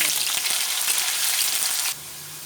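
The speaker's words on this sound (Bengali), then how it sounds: "আলুগুলো একটু ভেজে নেব," Potatoes sizzle loudly in hot oil in a pan, frying for a Bengali-style raw jackfruit curry. A close, bright crackle holds steady, then drops abruptly to a much softer sizzle near the end.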